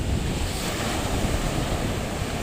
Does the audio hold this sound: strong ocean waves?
yes